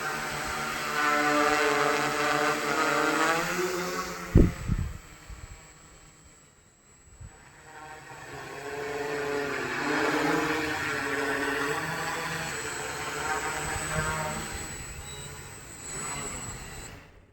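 A homemade drone with a DJI NAZA flight controller in flight, its motors and propellers giving a steady high-pitched whine and buzz that rises and falls, with a sharp knock partway through and a quieter stretch before the hum returns.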